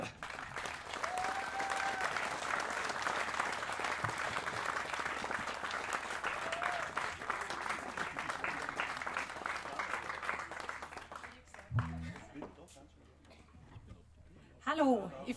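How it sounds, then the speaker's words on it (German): A concert audience at an outdoor jazz matinée breaks into steady, dense applause to welcome the singer, sustained for several seconds before tapering off as a microphone voice begins. "Begrüßen Sie mit mir mit einem kräftigen Applaus,"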